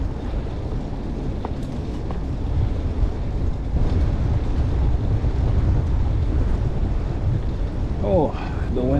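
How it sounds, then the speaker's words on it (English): Wind buffets the microphone downtown while riding a fixed-gear bike, a loud, steady low roar that rumbles continuously for the whole stretch with no break. "the wind downtown is a blowing"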